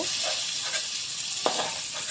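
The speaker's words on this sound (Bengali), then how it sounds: "এই দেখো মোটামুটি আমার ভাজা হয়ে গেছে ফুলকপিটা" Cauliflower frying in hot mustard oil, a continuous bright sizzle and hiss at steady level with a few small spatters and a brief stir, no talking.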